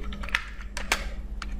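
Typing on a computer keyboard into a Google search, a quick run of close, crisp key clicks in an uneven rhythm over a low steady hum.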